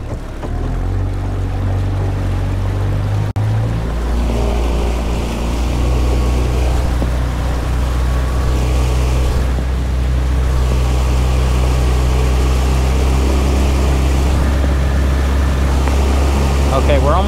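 A Wright Water 12 skiff's outboard motor revs as the boat speeds up to get on plane, a loud, close engine drone with rising pitch and surging water, with a voice talking over it.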